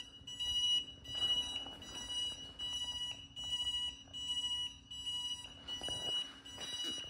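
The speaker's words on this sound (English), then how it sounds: "you're gonna press, say, the right turn signal, it's gonna beep, and then it's gonna continue flashing" An electronic turn signal on a budget e-bike beeps repeatedly in an even rhythm, a sharp, high, close-up tone pulsing about once a second over a low background hum.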